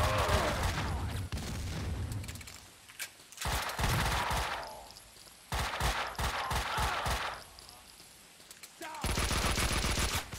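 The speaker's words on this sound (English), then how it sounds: "Who was that shooting?" Gunfire in the video game Max Payne 2 comes in dense, loud bursts of rapid shots broken by brief lulls, with heavy echoing volleys sounding close by.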